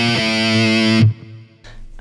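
A distorted electric guitar plays notes from the A Phrygian mode in a black metal style. A sustained, loud overdriven note rings for about a second, then is cut short, followed by faint muted plucks.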